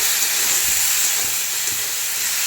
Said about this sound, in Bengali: ভালো করে এটাকে সাঁতলায় নেব।